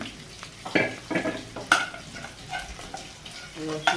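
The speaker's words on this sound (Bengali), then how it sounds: "তেল গরম হয়ে গেছে, আমি এবার পেঁয়াজ কুচি কাঁচা ঝালচিটা দিয়ে দিচ্ছি।" Chopped onion and green chili frying in hot oil in a pan, with a continuous sizzle and intermittent clatters of a utensil stirring and hitting the pan.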